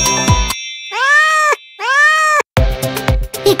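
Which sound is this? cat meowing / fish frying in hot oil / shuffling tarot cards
cat meowing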